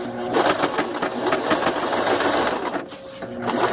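A sewing machine stitches at a fast, steady whirring rhythm, close and loud, slowing briefly before picking up again.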